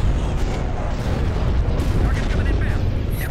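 Starship weapons fire in the Star Wars Empire at War space battle, a dense, continuous roar of booming blasts and rumbling explosions layered over one another at high volume.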